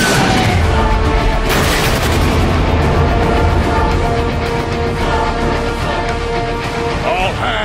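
Gunfire and heavy explosions from the video game Transformers: Fall of Cybertron, a loud dense barrage of booms and shots running nonstop, with voices talking over the battle.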